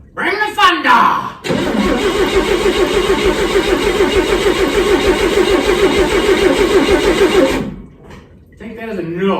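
1959 Chevy Parkwood wagon engine cranking on the ignition from inside the car, a loud rhythmic chugging of the starter that runs for about six seconds and then stops, with brief talk before and after.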